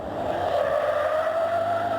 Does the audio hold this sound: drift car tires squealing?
yes